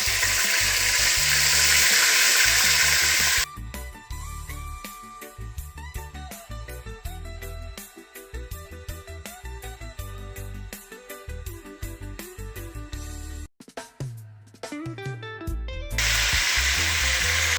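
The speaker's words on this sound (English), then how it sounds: "that's why I'm browning them up a little bit" Turkey necks browning in a pot for Jamaican stewed turkey neck, a loud sizzle with clicks and knocks in the middle where the pot is stirred or handled.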